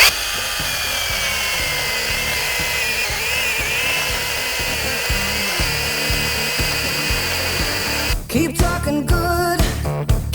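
A small cordless mini chainsaw (Grand 8HS) buzzes steadily as it cuts through a log thicker than its bar, then stutters and bogs in uneven bursts near the end.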